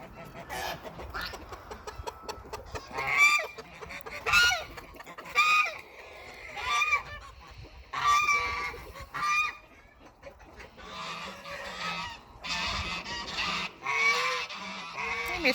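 A goose honks repeatedly in loud, nasal bursts close by on a farm, with some clucking fowl mixed in and a person talking between calls.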